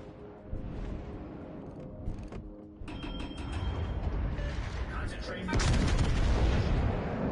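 Warship guns firing in World of Warships Legends, mechanical clanks and ratcheting turret noises followed by a heavier rumbling salvo that swells louder near the end, with game effects throughout.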